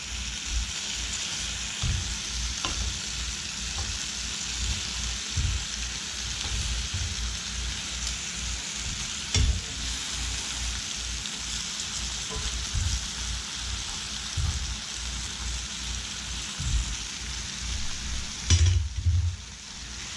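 Kabayaki eel turned over in a saute pan sizzles steadily and fairly close, a continuous hiss with occasional small pops and a brief clatter near the end.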